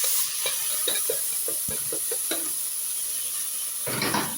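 Onion and chopped tomato sautéing in a pan, with a steady sizzle broken by a run of short stirring scrapes, then a brief louder burst of frying near the end; no talking.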